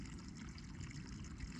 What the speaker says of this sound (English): look at this great water source